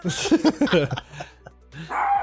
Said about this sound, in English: No, the other dogs, our neighbor dogs, are barking.